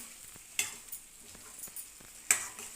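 Chicken pepper fry sizzles softly in a pan, with faint frying hiss broken by a few sharp clinks and scrapes of a spoon as it is stirred.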